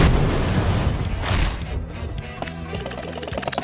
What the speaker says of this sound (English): Real bombs!